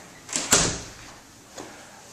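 An interior door in a house for sale in West Palmdale swung shut, a close thud with a latch click, followed a second later by a softer knock.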